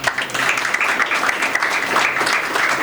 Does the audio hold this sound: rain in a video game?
no